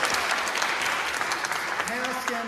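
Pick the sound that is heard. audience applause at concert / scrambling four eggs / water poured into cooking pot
audience applause at concert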